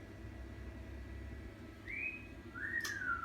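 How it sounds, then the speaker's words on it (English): Two faint, thin whistled calls, rising then sliding downward, come from a distance over a low steady background hum. "They're the birds whistling in the background."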